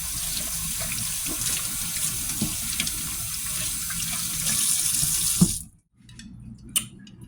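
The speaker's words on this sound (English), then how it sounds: "But I just want to make sure I clean my hands." Hands washed under a running kitchen tap, a steady loud rush of water for several seconds that cuts off abruptly, followed by a few faint clinks.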